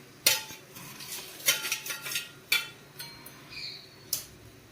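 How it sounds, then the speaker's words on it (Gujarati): Sukhadi mixture with cardamom being stirred in a metal pan after the gas is turned off, sharp clinks and scrapes of a spoon against the pan in a loose, irregular rhythm, close and without talk. "હવે એને હલાવી નાખશું આપણે"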